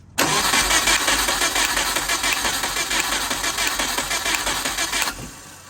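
The engine of a WRX-swapped Subaru Impreza cranks on the starter during a compression test, a loud, steady, rapid chugging drone lasting about five seconds before it cuts off, close and alone.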